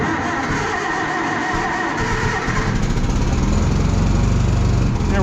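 A tiny skid steer's small petrol engine runs loud and close, a buzzing lawnmower-like chug that roughens and grows stronger about two seconds in as it picks up fuel.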